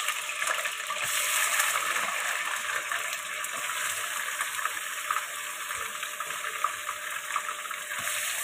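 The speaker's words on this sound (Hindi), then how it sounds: "तो ये हम अपनी चिकन डाल देंगे।" Chicken hits a hot karahi with a bright, steady sizzle, a dense hiss that stays loud and close for several seconds with light spattering and no talking.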